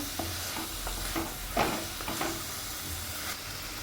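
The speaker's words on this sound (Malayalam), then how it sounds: "കുറച്ചും കൂടെ സ്പീഡിൽ വഴന്ന് വരാനായിട്ട് ഉപ്പ് ചേർത്ത് വഴറ്റണേ" Salt is stirred into food sautéing in oil in a clay pot, giving a steady soft sizzle with occasional scraping stirs, close and moderately quiet.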